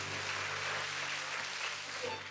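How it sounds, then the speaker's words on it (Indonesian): Church congregation applauding during a Sunday sermon, a brief, even roar of many hands clapping at once, steady and full throughout before easing at the end, with a low electrical hum beneath. "Nah sekarang baru tepuk tangan yang paling meriah."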